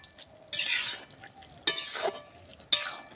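Three bursts of stirring scrape through banana flower curry in a pan just after ghee goes in, each spoon pass rasping for about half a second against a soft sizzle.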